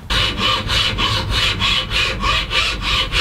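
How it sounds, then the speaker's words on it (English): A hand file rasps back and forth across a brass and ebony knife handle, with close, loud, even strokes, roughly eight in a steady rhythm and no talking. "This file does okay, just takes some time."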